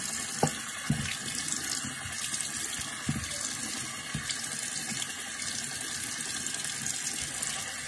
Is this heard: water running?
yes